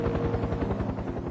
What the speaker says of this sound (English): could hear a rescue helicopter in the distance